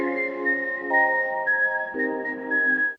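A clear, high whistled melody of a few sustained notes from the Twisted Nerve film theme, steady and close, backed by a lower sustained orchestral accompaniment.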